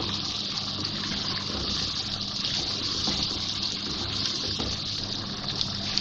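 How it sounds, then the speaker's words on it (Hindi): Goat meat frying with onions in a hot pan for a Bakra Eid dish: a loud, dense and unbroken sizzle that holds steady from start to finish, close up and with no pauses. "अब ये गोश्त शामिल करेंगे इसमें मैं। प्याज के साथ इसको भूनेंगे।"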